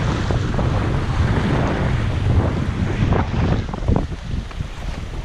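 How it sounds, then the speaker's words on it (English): Steady wind and waves rush at sea aboard a sailboat with the wind on the beam, a loud continuous roar buffeting the microphone, with occasional splashes and no talk. "It's good sailing. Wind is more or less on the beam."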